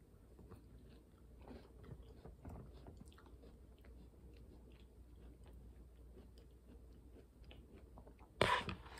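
Someone chews a gluten-free mint Oreo cookie, with soft crunchy bites and mastication sounds close to the mic, quiet and irregular, ending in a brief louder rustle.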